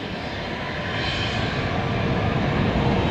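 A jet airliner bound for Sao Paulo rolls out of Dallas Fort Worth Airport at night, a broad, steady engine roar that swells slightly louder as it goes.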